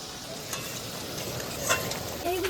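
Duck meat fries and sizzles in a pan as it is stirred, a steady close crackle with brief scraping touches near the end.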